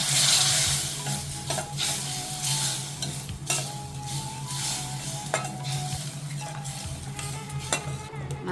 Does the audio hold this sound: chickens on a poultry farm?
no